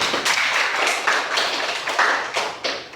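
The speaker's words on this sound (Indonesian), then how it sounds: "Berikan aplaus bagi penerima" Audience applause in a nursing school classroom in Denpasar, a dense run of many hands clapping together at steady volume, close and continuous, with no talking over it.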